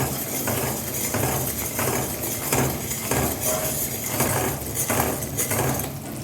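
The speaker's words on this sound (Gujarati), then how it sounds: "તો ગોળને સતત હલાવતા રહેવાનું છે આ રીતે ઓગળી જશે લિક્વિડ ફોર્મમાં આવી ગયો છે" Melted jaggery for black sesame chikki is stirred continuously in a pan, with a spoon scraping and knocking against the metal in a steady, close rhythm of repeated strokes over a constant background hiss.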